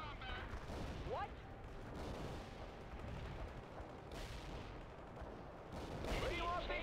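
Gunfire and artillery roll through a World in Conflict Soviet assault battle, with dense overlapping rattles and booming blasts at middling loudness, while shouted unit voice lines come through now and then.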